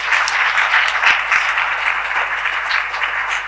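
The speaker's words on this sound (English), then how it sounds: "So a big round of applause for both the teams." An audience at a market research seminar applauds the runner-up teams with steady, dense clapping that holds at an even level throughout.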